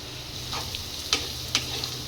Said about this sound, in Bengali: আমি লাল করে ভেজে নেবো। অর্ধেক ভাজা হয়ে গেছে